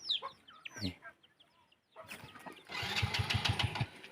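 Chickens cluck and squawk close by in short bursts, then a motor starts up and runs loudly, partly covering the birds.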